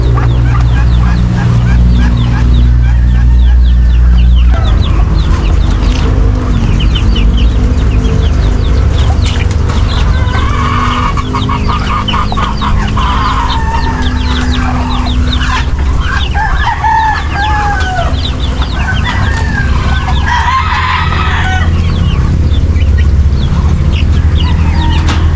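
Chickens cluck and roosters crow loudly and close in a mini backyard farm, repeated crows over a dense bed of clucking fowl with constant low background noise.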